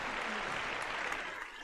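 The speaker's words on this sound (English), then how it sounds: "a big round of applause for Michaelan." A live audience applauds in a steady, dense wash of clapping, fairly faint and distant, holding evenly for a moment before easing slightly.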